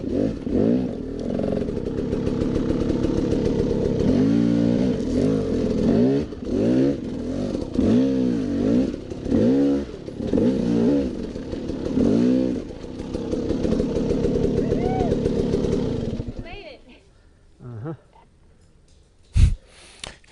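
Off-road motorcycle on a trail loop, its engine revving in repeated rising and falling bursts as the clutch is slipped over obstacles, loud and close for about fifteen seconds, then cutting out to near silence with a few knocks.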